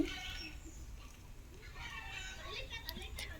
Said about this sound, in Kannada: ನೋಡಿ ಎಷ್ಟು ಕೋಳಿಗಳಂದರೆ ಬರೀ ಕೋಳಿ ಕೋಳಿ ಕೋಳಿ ಕೋಳಿ ಕೋಳಿ ಕೋಳಿ ಕೋಳಿ ಅಷ್ಟೆ ಕಡೆನೂ ಕೋಳಿ ಈ ಕಡೆನೂ ಕೋಳಿ